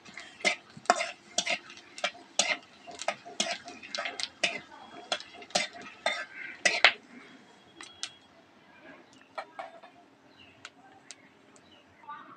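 Dry red chillies, cardamom, cloves, cinnamon and cumin seeds are stirred in a pan with a spatula, making a series of sharp scraping and tapping strokes in a rough rhythm that thins out toward the end over a quiet background.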